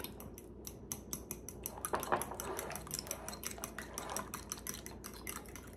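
Spoon clinks and scrapes against a bowl while breakfast ingredients are mixed, a quick run of close clicks and soft taps with faint wet stirring underneath.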